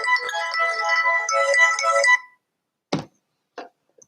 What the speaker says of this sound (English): needs to be on silent, my phone